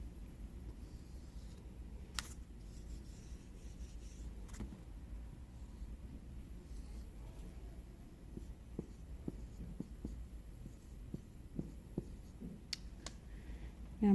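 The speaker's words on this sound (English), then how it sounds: "So I'm going to kind of erase it and do this over again." A dry marker or pencil scrapes and taps on a board while a geometry diagram of parallel lines and angles is erased and redrawn, with quiet intermittent strokes and clicks that grow more frequent toward the end.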